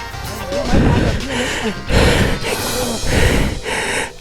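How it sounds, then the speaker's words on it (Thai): Heavy, ragged breathing comes from someone exhausted after pushing a motorcycle up a steep forest hill, with loud close gasps and panting in uneven bursts, broken by short spoken exclamations. "โหเสียหายใจผมดัง"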